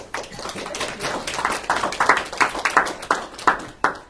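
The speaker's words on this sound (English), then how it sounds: "So, big round of applause to Carol Cole Lewis." Scattered audience clapping for a speaker at a small business seminar on social media marketing: a few sparse claps build into a quicker run of distinct, crisp hand claps.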